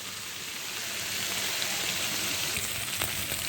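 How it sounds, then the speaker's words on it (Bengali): Spice paste for a tiger prawn curry frying in oil, a steady close hiss and crackle that grows slightly louder after the first second, with a few sharper pops near the end. "এবার দেখেন মশলাটা কষানো হয়ে গেছে"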